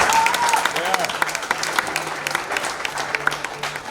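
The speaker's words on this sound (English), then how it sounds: "Let us give them a hand of applause" Crowd clapping at a spoken word show at the National Theatre fills the whole stretch, dense and steady with scattered sharper claps, a few whistle-like tones rising briefly over it.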